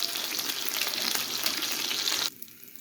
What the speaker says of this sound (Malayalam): ശേഷം എണ്ണയിലിട്ട് നല്ല ഫ്രൈ ചെയ്തെടുക്കുക.